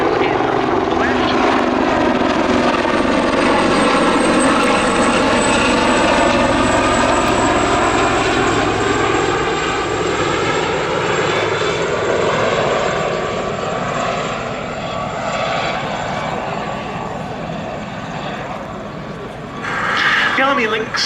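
An Army Westland Lynx and a Gazelle helicopter fly a duo display at the Duxford summer airshow, a loud continuous rotor and engine roar with pulsing blade beats and shifting pitch as they pass, with a commentator talking over it.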